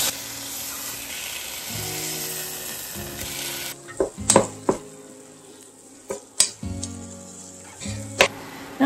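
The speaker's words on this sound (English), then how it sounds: "let's add 1 pound of ground beef. And mine is a little frozen, so it's going to take a while to get it to crumble up" Partly frozen ground beef frying in a pot for chili. A dense sizzle fills the first half, then a spoon scrapes and clanks sharply against the pot several times while the meat keeps crackling underneath.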